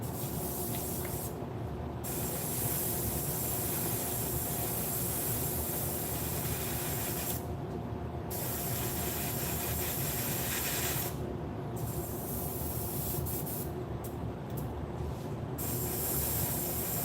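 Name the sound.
airbrush spraying primer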